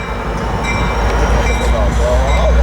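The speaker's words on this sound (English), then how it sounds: "A69 leading out of Fullerton on Metrolink." A Metrolink passenger train rolls past at Riverside station with a loud, steady rumble and rail noise, close by and continuous throughout.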